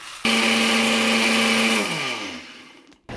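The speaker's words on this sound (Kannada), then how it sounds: "ಸ್ವಲ್ಪ ಇದು ಗ್ರೈಂಡ್ ಒಂದು 2 ಸತಿ ಗ್ರೈಂಡ್ ಮಾಡ್ಕೊಂಡು ಇದೊಳಗಡೆ ಹೋಗುತ್ತೆ" A mixer grinder grinding puliyogare spice powder ingredients such as chana dal, urad dal and fenugreek, starting abruptly at full loud whine, holding steady, then winding down in pitch, with a brief restart at the end.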